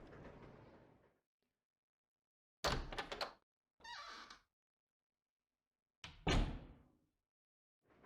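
A door opening in Resident Evil Zero, heard as several heavy clunks and scraping thuds separated by silent gaps, with a final loud burst of door noise.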